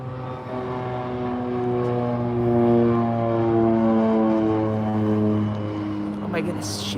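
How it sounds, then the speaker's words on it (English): A Beechcraft propeller airplane near Calgary airport, its droning engine hum with steady harmonic tones swelling slightly as it passes at moderate distance, a faint voice briefly audible. "There's a Beechcraft."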